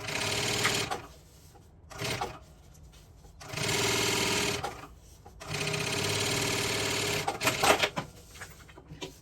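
Sewing machine stitching bias binding onto fabric for a bookmark pouch, running in several steady bursts of a few seconds each with short pauses between, close and clear with no talk.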